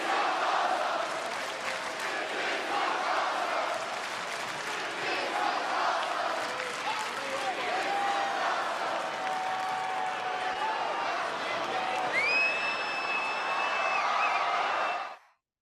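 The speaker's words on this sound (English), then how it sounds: "The crowd's chanting, "This is awesome."" Large wrestling arena crowd roaring and cheering in a continuous, dense wall of noise, with rhythmic chanting and whistles rising toward the end before the sound cuts off abruptly.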